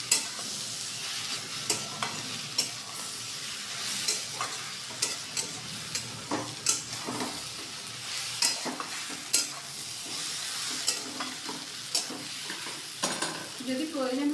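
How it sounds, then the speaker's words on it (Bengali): Brinjal with tomato and onion fries in a pan, a continuous sizzle broken by repeated scrapes and knocks of a utensil stirring every second or so, close and clear with no talking. "দিয়ে লো টু মিডিয়াম হাতে এটাকে নাড়াচাড়া করে নেবো।"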